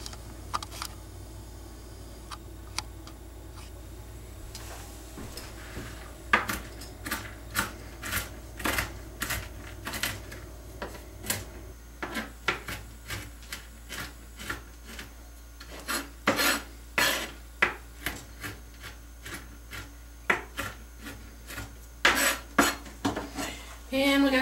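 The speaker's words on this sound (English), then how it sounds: "I got some pecans. And I'm going to bring out the big boy for that. My big knife." A big knife chops pecans on a board, a series of close sharp knocks and rasping cuts, sparse at first then speeding into quick irregular bursts.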